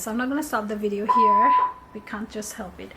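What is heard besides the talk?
fire alarm being tested, beeping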